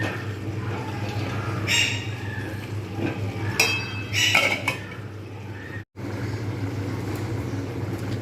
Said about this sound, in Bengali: আমি কিন্তু এটা আবারকে নাড়িয়ে দেব আবার আমি ঢাকা দিয়ে দেবো